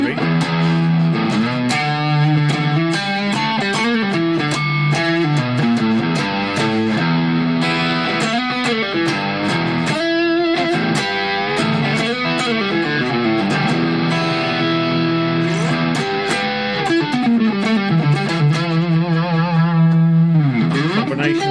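A Nova Go Sonic smart guitar on its neck pickup plays through its built-in speaker, a busy run of bending, sliding notes with a slightly distorted, effected tone, steady and close for the whole stretch.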